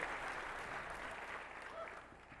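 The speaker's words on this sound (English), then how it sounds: "There's that crowd cheering." A large crowd at the Sony PSP unveiling event cheers and applauds in a steady, dense wash of clapping that stays even and fairly distant throughout.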